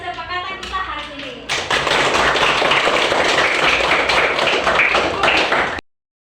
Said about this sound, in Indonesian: mari kita tepuk tangan untuk kesepakatan kita hari ini